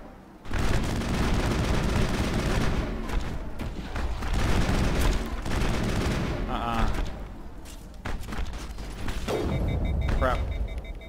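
Repeated shotgun blasts and gunfire roar through a Mass Effect firefight against mutated freaks, heavy booming shots and bursts following one another densely and loud, with a voice talking over the chaos at moments.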